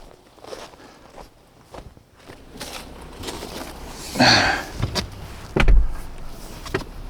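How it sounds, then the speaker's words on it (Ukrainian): A Volkswagen Touareg door is eased toward its frame, then a soft mechanical whir and muffled thunk as the soft-close mechanism draws it shut, with faint movement and footsteps around. "У Туарега двері із доводчиками, тому треба тільки обережно підвести, і далі вони самі підтягуються."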